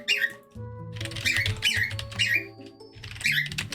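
Pet parrot squawking indoors, a rapid series of sharp, harsh calls in short bursts of about half a second each, close and moderately loud, with a low hum underneath.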